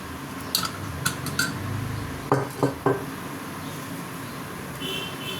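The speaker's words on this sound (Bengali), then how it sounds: "আমি গ্যাসে কড়াটা বসিয়ে দিয়েছি" A wok (kadai) set down on a gas stove while cooking a mixed non-veg pulao, a few sharp metallic clanks close by over a steady background hum.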